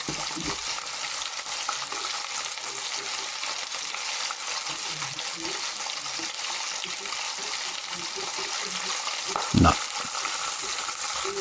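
Rabbit pieces browning in a pan, a steady close frying sizzle with occasional stirring clatter and a brief voice near the end.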